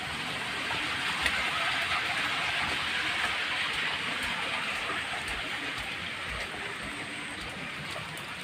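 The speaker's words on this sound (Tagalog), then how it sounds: "nang maulan pa rin dito" Steady rain falls over rural Bicol in the Philippines during rice-planting season, a dense, even hiss of drops that carries on unbroken for the whole stretch.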